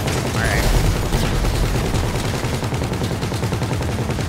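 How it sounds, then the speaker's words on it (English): Dense rapid gunfire rattles continuously in a heist video game, loud, close and relentless, with overlapping bursts over a low rumble and no pause. "They're shooting."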